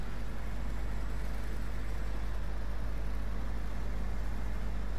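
A heavy truck engine in the SnowRunner video game drones steadily and loudly throughout, labouring as it climbs slowly through the gears on a snowy off-road route.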